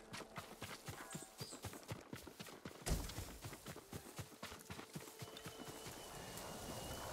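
Steady clip-clop of horse hooves at a walking pace in the video game Ghost of Tsushima, a rhythmic run of hoofbeats with a brief sharp knock partway through, over light background ambience.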